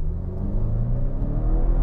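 A 2022 Volvo V90 Cross Country B6 holds a steady low, rumbling rev near 2000 RPM during a brake-torque launch on a snowy, rainy road. The engine drone is loud and close, with no talk over it.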